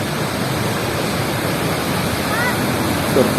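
Surf breaking on a sand beach at a beginners' surfing spot in Krui, a loud, steady wash of rushing water and wind noise with no distinct individual crashes.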